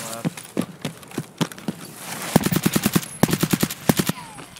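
Gunfire in the Escape from Tarkov shooter game: scattered single shots, then rapid bursts of automatic fire with sharp, evenly spaced cracks, fairly close and loud, with no voices.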